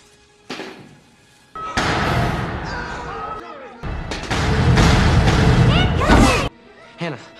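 Firecrackers go off in a film scene, a burst of loud cracking and booming blasts crowding together amid shouting voices, then dying down to a brief final pop.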